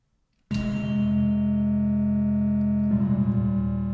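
A lone synth voice called an anvil, part of a dark dungeon-synth song arrangement, sounds a sustained, bright metallic tone with rich ringing overtones, struck once and held steadily, then re-articulated near the end with a slight wavering shimmer.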